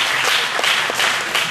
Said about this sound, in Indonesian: berikan tepuk tangan yang berbiasa itu